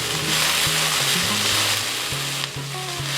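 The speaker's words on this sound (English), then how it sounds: "I only want to saute it a little bit so that it's not as hard when I take it out the oven." Food sautéing in a pan sizzles loudly and continuously up close, with a few stirring scrapes and no voices.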